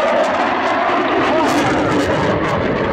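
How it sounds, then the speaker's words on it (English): A Eurofighter Typhoon of the Italian Air Force with two EJ200 jet engines passes at an air show, a loud, steady, broadband jet roar that fills the full three seconds. "The two EJ200 jets are incredibly thrust efficient and will push Eurofighter from 400 knots minimum speed to about Mach 2 maximum speed."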